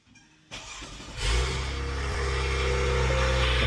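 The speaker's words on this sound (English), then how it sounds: "we're gonna start the vehicle." A car engine cranks briefly and catches during a jump starter cranking test with a Lokithor JT400, then settles into a steady, close idle that grows slightly louder and smoother.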